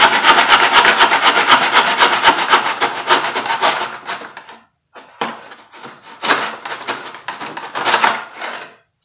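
A hand saw makes a 45-degree cut through wood in a Stanley miter box. Close, rhythmic back-and-forth rasping strokes run for several seconds, then pause briefly and resume in shorter bursts.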